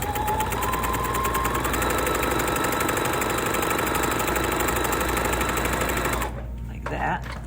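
A sewing machine top-stitches a fabric strap for a wall bucket, an eighth of an inch from the edge. It runs loud and close in a steady rapid whir for about six seconds, then stops.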